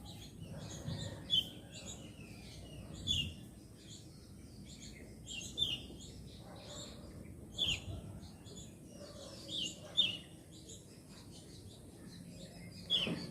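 Yellow bulbuls call from tree branches at dusk, with repeated short chirps and whistled notes at moderate distance over a steady low ambient hum.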